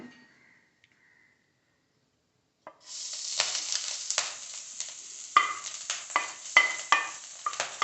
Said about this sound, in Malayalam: ആദ്യം നമുക്ക് കറുവാപ്പട്ടയും ഗ്രാമ്പൂവും കൂടെ നമുക്ക് ഒന്ന് ഫ്രൈ ചെയ്തെടുക്കാം